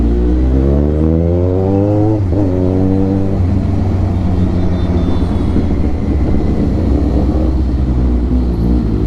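A Kawasaki Ninja 1000 with an Austin Racing full exhaust roars loudly and close on a city ride, revving up through rising sweeps, dipping, then settling into a deep, rumbling drone.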